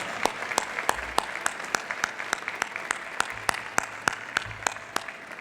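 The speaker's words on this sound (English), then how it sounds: "Please join me in a round of applause for all these generous sponsors." Audience applause for event sponsors at the 2011 LBCC State of the College address, a steady patter of many hands clapping at moderate distance, fairly soft and even throughout with no talking over it.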